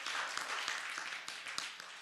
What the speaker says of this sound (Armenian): Նատ բարձր ծափարենք մեր փառաբանության խմբին